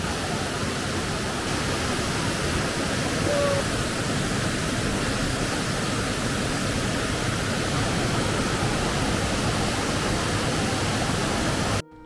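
Mountain valley stream running swollen and fast after heavy rain, a steady dense rush of flowing water heard close and loud, with no pauses throughout.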